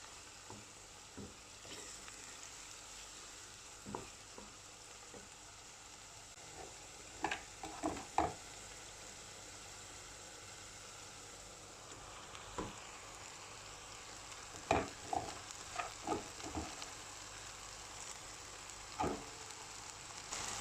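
Finely diced onions fry softly in a pan on the way to an okra dish, a faint, low sizzle with scattered light clicks and stirring taps spread across the stretch.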